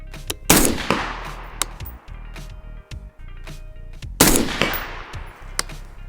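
Two sharp, loud rifle shots about four seconds apart at a 6-inch steel target 100 yards away, each with a ringing tail, with small handling clicks and rustles between them.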